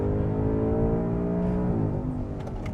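A 2024 Ford Mustang Dark Horse with a 5.0 V8 and automatic gearbox accelerating on a race track, a loud, close engine drone climbing in pitch through the gears before easing off near the end.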